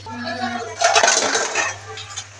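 Masala for a mutton leg roast is stirred in a pan, with metal spoon scraping and clinking against cookware in quick, uneven strokes, close by, over a low steady hum.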